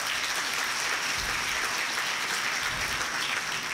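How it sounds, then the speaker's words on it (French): An audience at an entrepreneurs' forum applauds a newly introduced company director, a dense, steady burst of clapping from a large crowd that fills the whole stretch with no talk. "On peut l'applaudir, Thomas."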